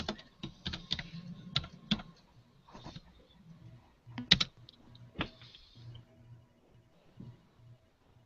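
Clicking keystrokes on a computer keyboard come in quick irregular bursts with short pauses, close and fairly quiet, and no voices.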